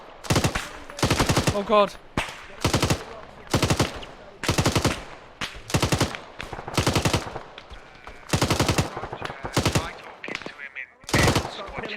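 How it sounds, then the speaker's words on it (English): Bursts of automatic gunfire from the video game Arma 3, in a Falklands War operation, come as rapid, loud rattling volleys in repeated rhythmic strings with short gaps, and a brief exclamation from a voice. "I gotta lay down fire."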